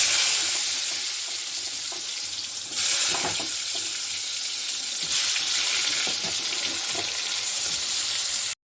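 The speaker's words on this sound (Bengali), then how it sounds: "রান্নাটা আমি সাদা তেলে করব। এখানে আমি এখন পটলগুলো দিয়ে দেব।" Sliced pointed gourd (potol) frying in white oil gives a steady loud sizzle, with brief bursts of stirring and scraping in the pan partway through.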